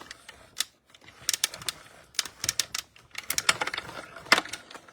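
A die-cutting machine running a plate sandwich through its rollers, giving a close series of rapid mechanical clicks and ratcheting ticks in uneven bursts, with no voices.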